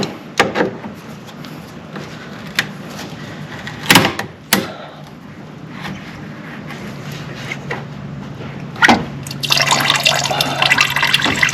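Fluid from a power steering leak drips out of an engine line on a Lexus SC430 in a garage, a few separate small splashes and drops over a steady low hum.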